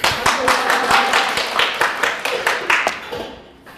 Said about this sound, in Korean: 박수 소리가 아주.